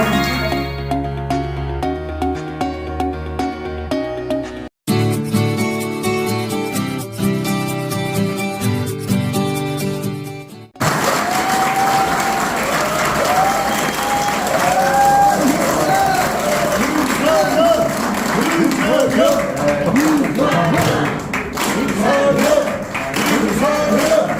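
Applause and cheering from an audience at a People Power Party chapter breakfast meeting in Incheon, heard as a dense, loud crowd wash with voices mixed in, following a stretch of music.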